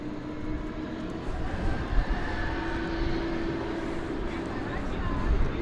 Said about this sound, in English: There's that American Airlines jet we spoke of a bit ago, coming in from San Francisco.